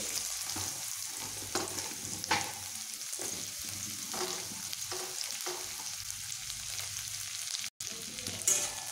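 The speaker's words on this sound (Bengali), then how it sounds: "করলাগুলোকে আমি এইভাবে ভেজে নেব।" Bitter gourd fries in oil with tempering spices, a continuous sizzle broken by repeated scraping stirs of a spatula, close and fairly quiet, with no talking.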